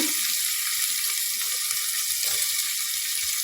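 Onion, tomato, potato and carrot sizzling in a hot pan for a white kurma, a steady bright hiss throughout with soft intermittent stirring scrapes, close and continuous, no voice.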